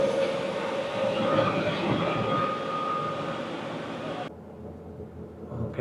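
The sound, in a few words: train hauled by ÖBB Siemens Taurus locomotive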